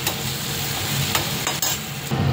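Marinated chicken, coated in cumin, coriander, turmeric and chili powder, sizzles steadily in a hot pan, with a few sharper crackles and brief scraping stirs breaking through the continuous frying hiss.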